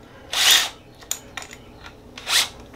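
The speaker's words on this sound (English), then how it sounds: "You gotta use a Festool drill to assemble the Festool." A Festool drill drives screws while assembling an MW 1000 mobile work station: two short whirring bursts of the drill, with scattered clicks and taps of handling in between, close and moderately loud.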